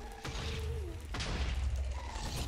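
Explosions in a Minecraft-style survival game, a low rumbling boom rising near 1.1 seconds and rolling on under steady broadband noise, with a second swell toward the end.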